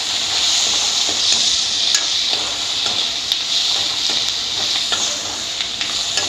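Kanduli sizzles steadily in hot oil in a pan while a spoon stirs it, with faint scraping and clinks against the metal over a constant close frying hiss.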